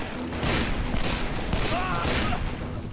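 Gunfire in the Western shooter Call of Juarez: Bound in Blood, with a dense volley of loud, close shots and booms, and a voice speaking over the shooting.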